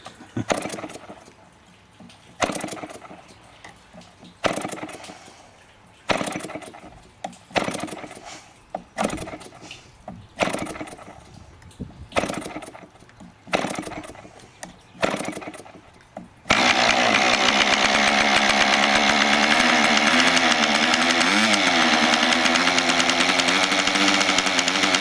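A glow-fuel RC model engine, primed wet with the choke, is pulled over in a series of short sputtering bursts, then catches and runs at a loud, steady, buzzing high pitch that wavers slightly.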